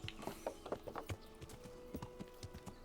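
Steady clip-clop of horse hooves on a hard surface in the video game Kingdom Come: Deliverance, an irregular trotting rhythm of close, moderately loud strikes with no voices.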